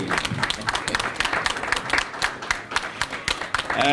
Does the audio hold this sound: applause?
yes